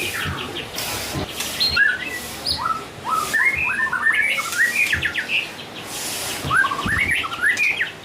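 A murai batu songbird sings in a bird gallery in Jakarta, loud rising whistled phrases and chirps repeating over steady background noise, with faint voices and other birds around it.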